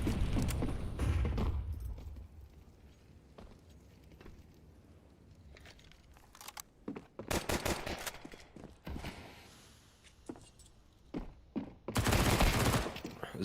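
Pistol gunfire in a competitive Counter-Strike pistol round, with several bursts of sharp shots alongside thuds and footsteps, some close and loud, others farther off, and a voice talking in the background.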